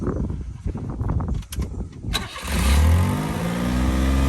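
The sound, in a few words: Mitsubishi mini truck engine starting and revving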